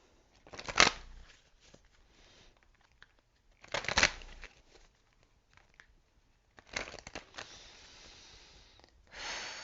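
A deck of energy oracle cards being shuffled, with crisp riffling bursts near 1 and 4 seconds and longer rustling shuffles later, fairly close and alone without talk.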